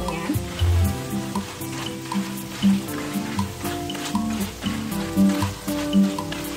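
Coated peanuts fry in oil for kacang kribo, with a close sizzle under slow, gentle stirring that makes repeated soft scraping sounds against the pan, while music plays underneath.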